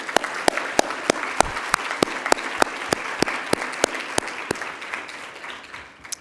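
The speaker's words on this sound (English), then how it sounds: "Can we please give our underwriters a round of applause?" Audience at a health care summit in Boston applauds with distinct, evenly spaced loud claps over a softer bed of scattered clapping that tapers off at the end.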